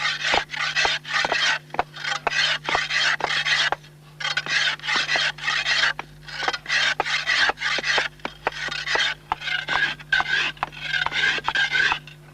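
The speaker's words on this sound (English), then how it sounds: "The final scraping and shaping at the wooden stake is done by a scythe blade." A scythe blade scrapes and shapes a wooden stake in rapid, rhythmic rasping strokes, close and loud, with a brief pause partway through before the steady back-and-forth scraping resumes.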